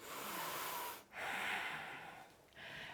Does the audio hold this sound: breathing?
yes